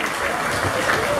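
Short burst of audience applause at a literary festival in a cultural tent, continuous clapping mixed with crowd murmur.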